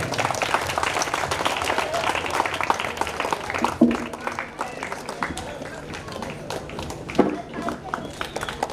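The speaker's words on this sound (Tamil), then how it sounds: "முதல்ல கைதட்டல் கொடுக்கலாங்க" An audience at a school commemoration event claps for a third-grade student, a dense, steady burst of applause that continues throughout, with a few louder thumps along the way.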